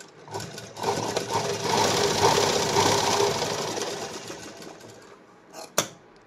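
A sewing machine runs steadily for about five seconds, stitching fabric for a blouse cup panel, then stops with a sharp click near the end and no talk.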